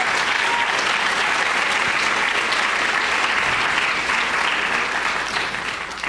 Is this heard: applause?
yes